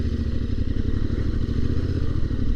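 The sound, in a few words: Suzuki GSX-8S motorcycle engine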